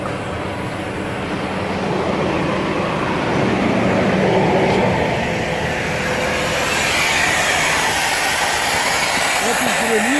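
Air brakes on a running tractor-trailer combination release with a sustained, fairly loud hiss of escaping air, steady over several seconds with low engine rumble beneath; a person also talks.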